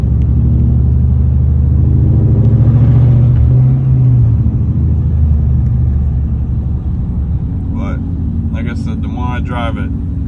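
Idling 2004 Ford Mustang GT with straight-pipe exhaust, a loud steady low rumble that swells briefly, with voices talking over it near the end.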